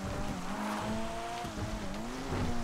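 Cars race in GTA FiveM around Cayo Perico, engines droning and shifting pitch continuously while tires squeal, a steady close game-engine roar without talk.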